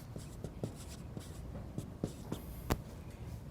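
Chalk or marker writing on a board during a math lecture, short scratchy strokes and taps in an irregular rhythm, close and quiet, with no talking.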